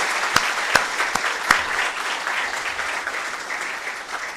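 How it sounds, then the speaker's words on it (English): Audience applause at a robotics conference: a steady wash of clapping from a sizable crowd, with a few sharper claps standing out near the start, sustained across the whole stretch without speech. "So a big round of applause for everyone who's made this."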